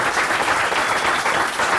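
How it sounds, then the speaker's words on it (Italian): An Italian audience applauds a Moto3 champion from Imola, giving a dense, continuous burst of clapping that stays loud and even throughout the short clip. "un applauso a Kevin."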